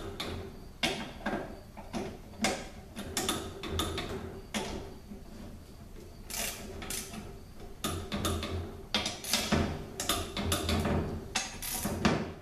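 Transmission bolts on a 6T45 gearbox are tightened with a wrench to 20 foot-pounds, giving close bursts of sharp metallic ratchet clicks and ticks in uneven runs, broken by short pauses while the tool is repositioned.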